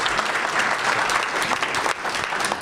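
Audience applause during a mayor's address, a loud, close burst of many hands clapping continuously for a couple of seconds, with a brief dip near the end.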